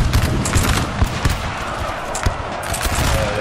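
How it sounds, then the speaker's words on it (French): Dense, continuous musket volleys and scattered shots crackle loudly in a Napoleonic battle game set in the 1812 Russian campaign at Valutino Gora, with heavy overlapping gunfire throughout and no pause. "il y va plein de balles"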